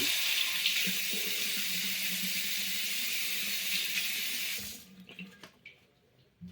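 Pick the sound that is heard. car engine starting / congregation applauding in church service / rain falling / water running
water running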